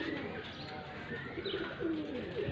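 Pigeons coo softly at a home loft in Faisalabad during training as a new bird is released, faint low murmuring calls over steady background noise.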